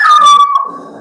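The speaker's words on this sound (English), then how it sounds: "My dog freaking out a little bit." A dog howling loudly right up close, one long wavering howl that breaks into a shorter whining yip as it fades, heard alone.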